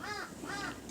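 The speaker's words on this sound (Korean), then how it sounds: "역시 까마귀" A crow caws twice in quick succession, two harsh, rasping calls heard fairly close and clear over a light background hum.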